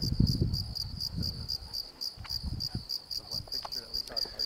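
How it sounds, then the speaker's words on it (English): Loud, steady cricket chirping in rapid pulses fills the background in the middle of the day on the Carrizo Plain, with some low rustling and faint movement noises underneath. "Seems weird to hear crickets chirping so loudly in the middle of the day."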